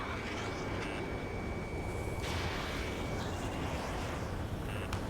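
Missile explosions and heavy combat rumble from the jet fighter game Ace Combat 7, a dense, continuous roar with sharp bursts and whooshing over a constant low-frequency wash, no voices.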